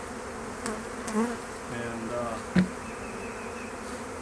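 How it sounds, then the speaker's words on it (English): Honey bees buzz at a dwindled hive holding few bees, a close, steady drone with louder passes as individual bees fly near, and a voice speaks briefly. "This hive here is really dwindled down a lot. There's not a whole lot of bees on it."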